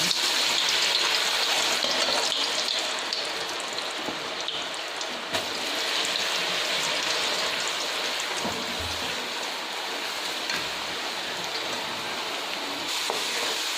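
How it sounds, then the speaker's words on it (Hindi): Potato fries sizzle steadily in hot ghee, a dense, loud, continuous crackling hiss that holds without pause throughout, with no voices. "घी गर्म हो चुका है। तो अब इसमें डालते हैं बिस्मिल्लाह।"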